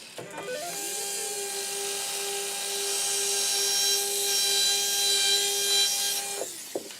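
A small, high-pitched 1.2 millimeter surgical pilot drill whines steadily and continuously for several seconds drilling maxillary bone, close up, with no talking.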